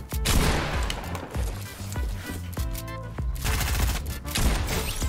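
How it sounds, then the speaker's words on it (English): Shotgun blasts in Fortnite, with several heavy booming shots spaced through a dense stretch of battle noise, building clatter and other gunfire, loud and close. "That was a nasty shot right there."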